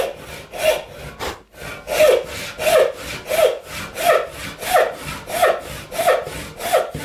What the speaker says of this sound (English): I can see that line, so I can saw to that line.